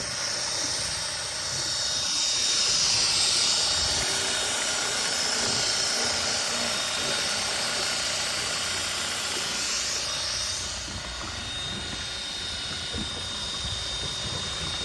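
A Makita 18V cordless drill rigged as an outboard motor drives a small boat. It makes a steady high motor whine over constant hiss and water churn, loud and close throughout with no talking.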